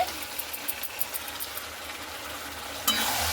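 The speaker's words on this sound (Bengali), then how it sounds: "এরপরে চিকেনটাকে খুব ভালো মতো করে মশলার সঙ্গে মিশিয়ে নিতে হবে" Fried chicken being stirred into yogurt and spice masala in a pan gives a steady close sizzle with scraping stirs throughout, ending in a louder burst of frying noise.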